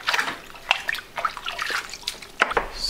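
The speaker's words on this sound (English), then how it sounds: "So just wanna do a good double rinse. Make sure we get any bugs out of them. Some nice cold water." Fresh-picked broccoli rinsed under cold running tap water in a sink, a steady close splashing and trickling with a few brighter drips and sloshes, no voices.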